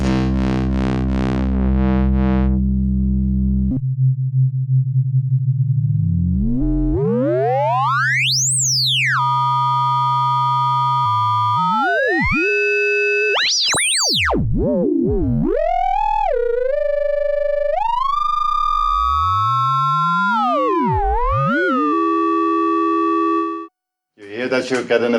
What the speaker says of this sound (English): you get an effect that is very similar to ring modulation or FM modulation